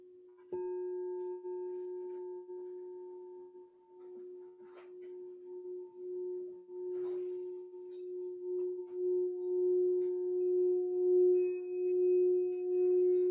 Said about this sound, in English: as the tones ring through on our journey to the center of the earth